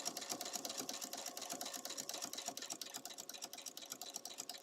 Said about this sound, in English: I'm just top stitching now. Again, this is a walking foot, not a running foot.